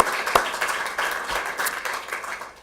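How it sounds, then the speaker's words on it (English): Brief scattered clapping at a Capitol press conference for California AP Day, a few claps close by, fading out quickly. "Can you put your hands together and give these young people a round of applause?"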